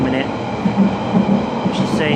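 A night train rumbles past at a station in a steady, continuous low roar with faint wheel noise and a brief higher squeal near the end, fairly close and unbroken.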